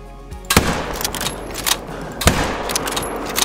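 Rifle shots aimed at a kangaroo in the hunting game Call of the Wild: two loud, sharp cracks about two seconds apart, each trailing off into a faint echo over quiet outdoor ambience.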